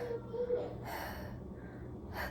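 A voice imitates heavy, exhausted panting, a few loud breathy gasps and wheezes close to the microphone, like someone who has run a marathon.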